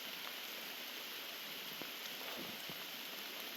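Steady rain falls outdoors at a campsite, a dense even hiss with scattered raindrop taps, constant and close throughout with no voices.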